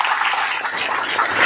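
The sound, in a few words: audience clapping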